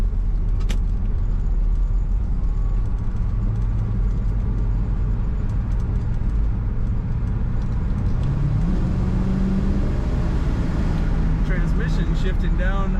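A 1970 Ford Mustang Mach 1 engine hums steadily from inside the cabin as it drives, with road noise throughout and someone talking over it.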